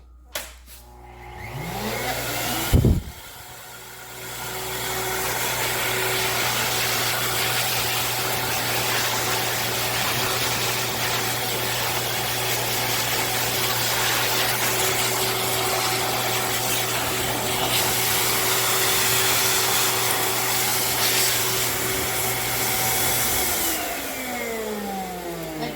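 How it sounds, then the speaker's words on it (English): A grooming blow dryer runs on a Bernese puppy, a loud continuous whirring roar with a steady hum that starts after a brief thump and stays even for about twenty seconds before cutting off. "move the blow dryer up to the front"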